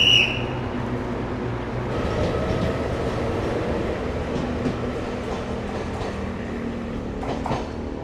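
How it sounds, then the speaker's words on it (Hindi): A village local train pulls through a small station in Taiwan: a steady, fairly close rumble of wheels on rails with a few clacks and faint squeals, building and fading over several seconds. "village local train"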